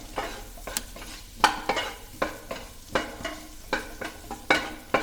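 Finely chopped onions sautéing in a pan for pasta, rhythmic spatula scrapes and stirring strokes every half second or so over a soft underlying sizzle, close and clear.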